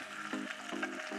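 Pork schnitzel sizzles in a frying pan after being turned, a close, steady crackle and spatter throughout.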